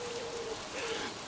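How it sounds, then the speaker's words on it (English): Rain falling outdoors, a soft steady patter of drops spread evenly throughout, moderately faint and continuous with no speech. "and down comes the rain"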